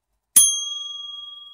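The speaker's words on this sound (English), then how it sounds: "Yes, I bought a bell specifically for this video." After a brief silence, a small bell is struck once, a bright metallic ding that rings on with a long, slowly wavering fade, close and clear.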